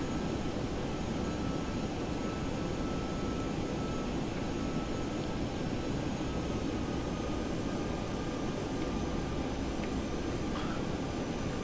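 Steady, loud airplane engine and airflow roar heard from inside the aircraft on final approach to a runway at night, a constant unbroken drone filling the whole stretch with no talking.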